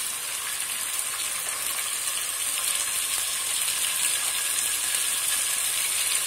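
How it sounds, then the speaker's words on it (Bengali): Prawns go into onions frying in a pan for a gourd-and-prawn curry, producing a steady, bright sizzle and hiss that stays close and constant with no talk. "এখন আমি চিংড়িটা দিয়ে দিচ্ছি।"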